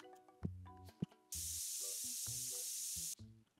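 An aerosol spray in TCG Card Shop Simulator hisses in one steady burst of nearly two seconds over light, plinking game music and clicks.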